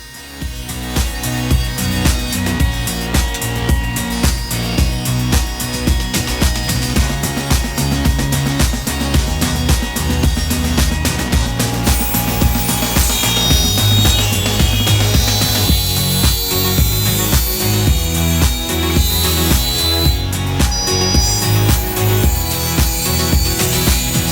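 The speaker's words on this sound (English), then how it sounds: "then I took them over to the table saw and ripped them to width" A table saw ripping wooden rails to width, a loud continuous power-tool whine with steady blade noise running unbroken for the whole stretch, close by and with no speech.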